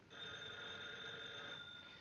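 A telephone rings with a steady electric bell tone, sustained for about two seconds at moderate distance, with no voices, in the 1941 film Blondie in Society.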